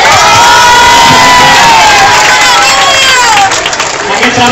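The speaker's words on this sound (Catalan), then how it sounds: "Un fort aplaudiment per ells també" A loud crowd cheers, whoops and shouts at a school event in a hall, with excited children's voices prominent; the roar is dense and sustained for several seconds, easing slightly near the end.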